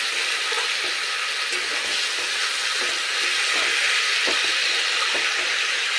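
Bengali-style desi chicken curry sautéing in a pan, a steady close hiss of frying with faint scraping and stirring knocks throughout, no talk.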